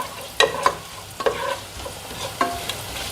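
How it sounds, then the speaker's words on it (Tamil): Fennel and cumin seeds with torn bay leaf splutter in hot oil for a potato gravy, with sharp crackling pops and a soft sizzle, interrupted by a few scraping stirs at close range. "இப்படி சோம்பு சீரகம் எல்லாத்தையும் பொரிய விட்டுடலாங்க"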